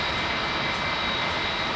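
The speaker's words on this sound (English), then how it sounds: "Iberia A330 drag racer going out" An Iberia Airbus A330 jet on its takeoff run, a steady, loud broadband engine roar filling the whole stretch without a break.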